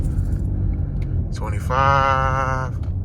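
A Ford F-150 pickup fitted with PowerStop Z36 truck and tow brakes brakes hard from 25 mph. A steady low road and engine rumble runs throughout, and a high, wavering tonal squeal rises for about a second midway.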